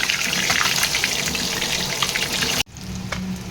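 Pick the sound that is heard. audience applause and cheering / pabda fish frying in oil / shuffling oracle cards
pabda fish frying in oil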